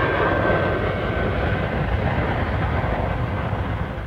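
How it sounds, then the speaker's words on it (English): A C-5 Galaxy, the world's largest aircraft, lands during a 1980 US Air Force Reserve exercise, a loud, steady broadband jet roar that holds at close range throughout with no talk. "peaking with the landing of a C-5 Galaxy, the world's largest aircraft."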